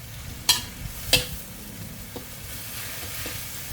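Chinese kale being stir-fried in a pan with blanched shrimp and squid in oyster sauce, giving a couple of sharp scrape-and-toss clatters early on over a steady low sizzle, then quieter stirring knocks.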